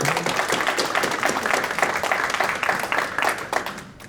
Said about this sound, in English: Big round of applause for Ruben.